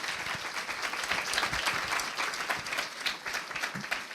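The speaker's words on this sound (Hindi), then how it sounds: "अरे मेरे प्रभु के लिए तालियां नहीं बजाओगे?" A church congregation claps steadily for the Lord, a fairly soft, continuous patter of many hands lasting a few seconds with no clear voices over it.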